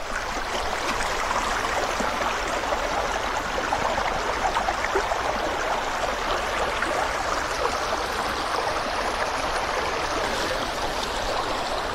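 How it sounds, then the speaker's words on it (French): A small woodland stream, swollen slightly after rain, flows steadily along a nature hiking trail, giving a close, continuous rushing and trickling wash of water with no voices over it. "Donc le petit ruisseau qui a un tout petit peu grandu, bah, avec ce qu'il a plu, c'est normal."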